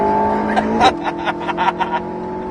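An Alpine A110S engine on the Circuit du Var, heard from inside the car at full throttle; a loud, close drone rises in pitch, then a quick shift is followed by a string of short bursts as the revs climb again.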